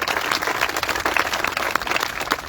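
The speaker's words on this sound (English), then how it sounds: "Please give her a round of applause." An audience claps through a ribbon cutting ceremony for a downtown revitalization project, a steady wash of hand clapping from a nearby crowd that carries evenly to the end.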